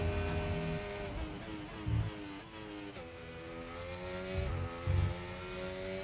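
A race car engine in a racing video game on a Spanish Grand Prix lap, steady high whine shifting pitch through gear changes and braking, with periodic low thumps, continuous and fairly close, no talking.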